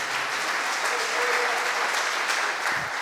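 A church congregation at a vigil service applauding, steady full clapping from many hands, loud and continuous, with a faint voice briefly beneath it.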